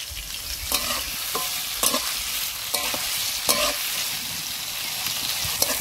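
Chopped onions and slit green chillies frying in hot oil with whole garam masala and bay leaf for biryani, a steady bright sizzle punctuated by regular spatula stirring strokes about every second.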